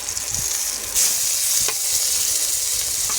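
Ash gourd slices fry in hot oil, a loud continuous close sizzle with a brief surge about a second in and faint spatters throughout, with no voices.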